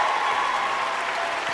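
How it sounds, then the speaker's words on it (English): Audience applause fills the room for a company chairman and CEO, a steady dense wash of clapping that stays loud and even for its whole length with no voices over it. "Let's give a round of applause to the head honcho in charge."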